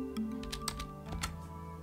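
Keys clatter on a computer keyboard in a quick burst of close, crisp clicks, with a short pause before a second flurry of typing; no one speaks.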